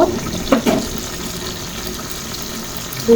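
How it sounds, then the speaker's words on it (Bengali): Water pours from a tap into a pan of shrimp and shapla (water lily stem) curry, a steady splashing stream running the whole time with a brief louder burst near the start and again at the end. "দেব একটু পানি"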